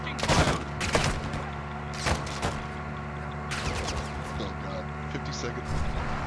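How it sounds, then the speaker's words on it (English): Gunfire in a Call of Duty match: several bursts and single shots crack out over a steady game background hum, with players talking throughout. "I'm taking fire."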